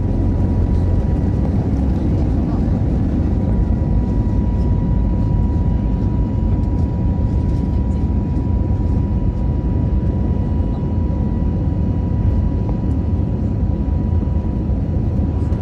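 Airplane departing: a loud, steady, low engine roar heard from inside the cabin, constant and unbroken throughout with no voices.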